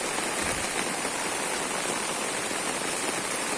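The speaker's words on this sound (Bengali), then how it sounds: "প্রচুর পরিমাণে বৃষ্টি হইতেছে" Heavy rain pouring down steadily, a loud, dense, unbroken hiss of water with no pauses.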